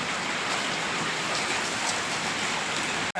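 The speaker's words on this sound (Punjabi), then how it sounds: "ਦੇਖੋ ਕਿੰਨਾ ਜ਼ਿਆਦਾ ਮੀਂਹ ਆ ਗਿਆ" Heavy rain pours down steadily over paddy fields in Punjab, a dense, loud wash of drops drumming on surfaces with no voices, cutting off abruptly at the very end.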